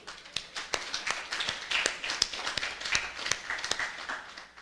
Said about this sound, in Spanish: Y yo creo que eso merece un aplauso.